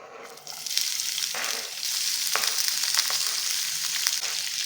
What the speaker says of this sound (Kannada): ಎಣ್ಣೆ ಬಿಸಿ ಆಗಿದೆ ನಾನು ಸಣ್ಣಗೆ ಒಂದು ದೊಡ್ಡ ಈರುಳ್ಳಿ ಹಚ್ಕೊಂಡಿದ್ದೀನಿ ಅದು ಹಾಕ್ಕೊಳ್ತಾ ಇದ್ದೀನಿ